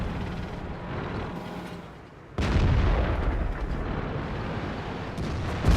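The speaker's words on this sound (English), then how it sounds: "There's a KV-2 off to Welly's right, who's putting fire into these guys." A KV-2 tank fires in a tank video game: one heavy, close cannon blast lands suddenly partway through, then a loud rumbling roar that carries on to the end.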